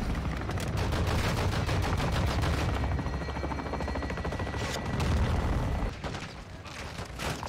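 Apache helicopter weapons fire in Call of Duty MW2, dense rapid bursts of gunfire and heavy booms over a rotor drone, loud and continuous before easing off near the end.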